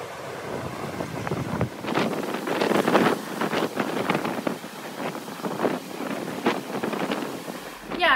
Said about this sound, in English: every time I wanted to go out on the balcony, it just all of a sudden would get like really windy.